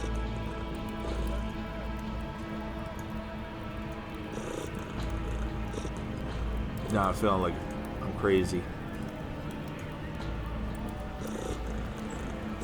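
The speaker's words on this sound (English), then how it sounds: "I hear the kitty purring" Cat purring steadily close by as a soft continuous rumble, while someone talks over it with occasional louder spoken bursts.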